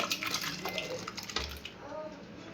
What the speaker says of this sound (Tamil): இப்போ மட்டன் குழம்பு மாற்றிக்கலாம் நம்ம ஒரு பாத்திரத்துக்கு.